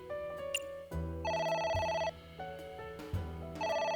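Repeated electronic phone ringing in the game AI: The Somnium Files, two clear ringtone bursts with a pause between, over low ambient game music and thumps.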